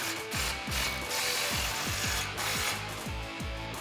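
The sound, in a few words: ratchet with 15 socket tightening exhaust clamp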